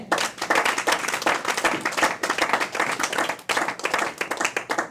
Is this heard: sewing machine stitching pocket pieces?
no